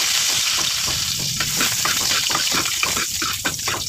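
Garlic fries in hot oil with a loud, close, continuous sizzle, and stirring scrapes through it in an irregular rhythm.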